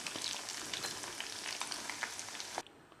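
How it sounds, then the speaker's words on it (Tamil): Leftover idli shallow frying in sunflower oil, producing a dense, lively crackling sizzle close by that stops abruptly just before the end. "பாருங்கள், மீதி இட்லியை நம்ம இந்த மாதிரி ஃப்ரை பண்ணி எடுத்துட்டோம்."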